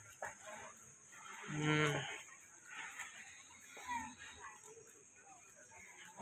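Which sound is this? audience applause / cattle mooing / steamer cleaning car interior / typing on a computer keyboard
cattle mooing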